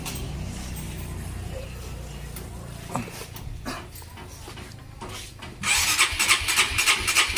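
A bored-up Honda Sonic 180cc motorcycle is kick-started with a heavy kickstarter and weak battery: scattered thumps and sputters give way to the engine catching near the end with a louder, rough running burst, while a dog whimpers nearby.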